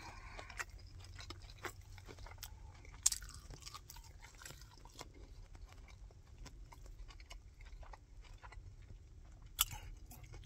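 Someone bites into and chews a large mouthful of fast food close to the mic, with faint wet crunches and smacking under a low background hum, plus a couple of sharper clicks.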